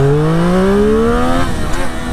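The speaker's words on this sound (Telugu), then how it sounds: "చూస్తున్నారా, జస్ట్ థ్రాటిల్ ఇస్తుంటేనే వీల్ అయిపోతుంది." A 2023 Triumph Street Triple RS motorcycle engine revs hard on the throttle, its pitch climbing steadily for over a second before easing off, loud and close with no talk over it.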